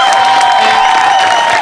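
An audience at a stage music performance claps and cheers loudly in a dense, continuous burst, close and filling the space.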